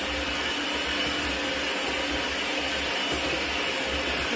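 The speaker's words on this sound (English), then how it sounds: "And so I decided to use my hand mixer." Electric hand mixer beating butter and sugar for a cinnamon cake, a steady continuous motor whir with a low hum, running evenly and fairly loud throughout.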